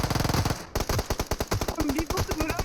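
Rapid automatic gunfire in the PUBG Mobile video game, a fast, loud, evenly spaced stream of shots. One short pause breaks the stream before it resumes at the same steady rhythm.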